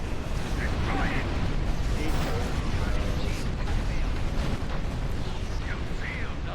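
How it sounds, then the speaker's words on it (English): A torpedo fired at a gigantic Alachi Walker during a Star Trek Online space battle, heard as a dense, steady roar of blasts and mechanical rumble that never lets up, with faint voice-like tones threaded through it. "Well, I fired a torpedo at it."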